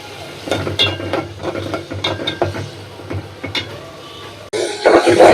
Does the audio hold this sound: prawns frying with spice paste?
yes